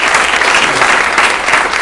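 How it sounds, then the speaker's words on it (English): A room full of real estate meeting attendees gives a loud, steady round of applause, dense and close, filling the whole moment without any talk over it. "give Trent a round of applause for that"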